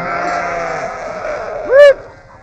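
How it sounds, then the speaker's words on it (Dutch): A sheep and goat flock grazing along the Hondsrug in the Netherlands: one loud, close, wavering bleat rises briefly over a steady low background drone. "Er loopt ook een geit bij"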